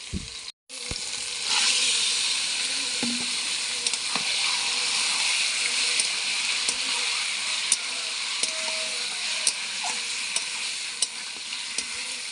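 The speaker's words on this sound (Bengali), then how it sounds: "এবার মটনটা কড়ার মধ্যে ঢেলে দিচ্ছি" Mutton poured into a hot kadai with spices, an abrupt splash that turns into a loud, steady, close sizzle with occasional spatula knocks and scrapes against the pan, no voices heard.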